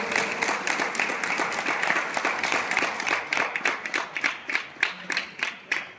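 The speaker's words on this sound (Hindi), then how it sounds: "सभी लोग ताली बजा के जोरदार स्वागत करें।" A crowd at a Shivratri bhajan gathering applauds in a dense, continuous burst of clapping that thins into scattered individual claps by the end.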